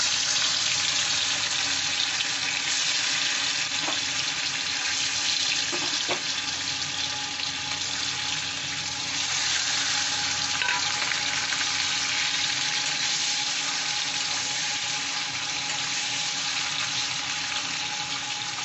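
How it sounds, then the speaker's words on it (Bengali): Paneer pieces frying in white oil in a wok, a loud, even hiss of sizzling oil held steady throughout, close by with a couple of faint knocks and no speech. "এবার কড়াইতে আমি সাদা তেল দিয়ে দিয়েছি এবার পনিরগুলো দিয়ে দেব হালকা করে ভেজে তুলে নেব"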